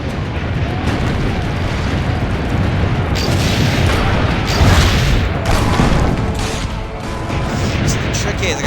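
Cannon fire from the video game Assassin's Creed Brotherhood: a loud, continuous barrage of booming explosions and blasts with rumbling low end, sustained throughout with no pauses.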